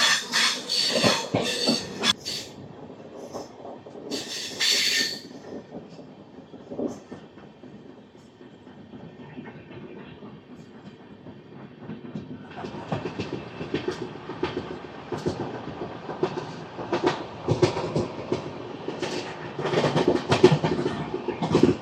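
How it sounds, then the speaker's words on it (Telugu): A Raipur-bound express from Secunderabad shunts into a station, rolling coaches giving steady clickety-clack and rail rumble that swells louder in the second half, with busy platform ambience throughout. "షంటింగ్ చేస్తున్నారు స్టేషన్లోకి."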